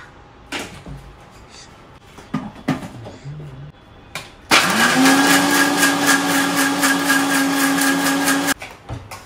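A mixer grinder grinding almonds with a little milk into a coarse paste, starting after a few clinks and taps, then a loud steady whirring motor run lasting about four seconds before it stops abruptly.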